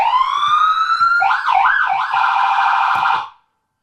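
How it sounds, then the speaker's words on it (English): A loud police-style siren horn sounds on a Ford Crown Victoria, rising into a rapid warbling wail for about three seconds before cutting off, heard alone and close. "Turn this on. Cop horn."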